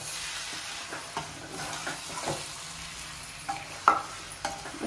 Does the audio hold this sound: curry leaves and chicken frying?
yes